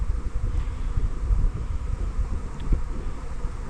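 A big honeybee swarm hovers around an outdoor apiary, its continuous low buzzing hum steady and close, mixed with wind rustle and a couple of faint clicks.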